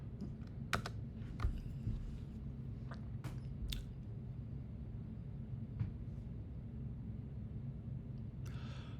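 Typing on a computer keyboard, with scattered clicky keystrokes and a few short bursts over a steady low hum, fairly faint and with no talking.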